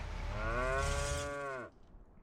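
A single long, drawn-out moo from a cow in a beef herd livestock pen in the Farming Simulator 25 video game, close and clear, fading into quiet background.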